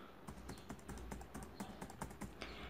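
A computer keyboard clicks under quick, irregular keystrokes as a username and password are typed, faint and close, with no talking.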